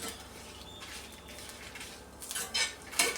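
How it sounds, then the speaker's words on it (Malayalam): Whole dried chillies and coriander seeds dry-roasting in a pan for a Kerala-style coconut egg curry, with light metallic scraping and rattling that grows busier toward the end; close and quiet, no voices. "നല്ല കടുത്ത ബ്രൗൺ ആകുന്നത് വരെ വറുക്കുക."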